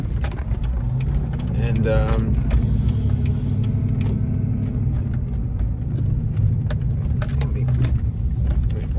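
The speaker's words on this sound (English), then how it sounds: "I'm just pulling into the work lot right now" A car rolls slowly into a work parking lot, its engine and tyre noise rumbling steadily up close while someone talks over it and a brief squeak rises partway through.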